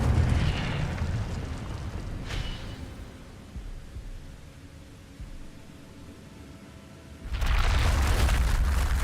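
An Incendio fire spell is cast in Hogwarts Legacy, a brief whooshing burst fading into a low rumbling hiss before a loud roaring blast of fiery noise swells up near the end.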